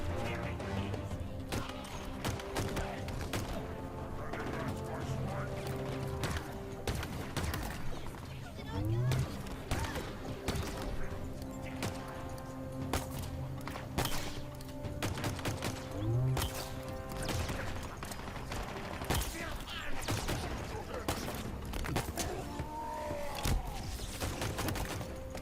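Pistol fire in the video game Halo Infinite during a firefight, repeated sharp cracks spread through the scene at moderate loudness amid other impacts and game action, with some talk.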